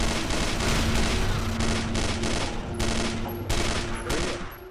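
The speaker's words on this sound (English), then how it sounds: "guns have pretty nasty recoil in this game" Dense gunfire in the 2007 shooter game Instinct, continuous rattling automatic shots with sharp bursts over a loud, busy game soundscape.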